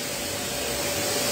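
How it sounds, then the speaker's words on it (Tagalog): A vacuum cleaner runs during household cleaning, a steady unbroken motor whine and airflow hiss held close and loud for the whole stretch, with no pauses or voices over it. "gusto ko nga itong vacuum na itong ginagamit ko"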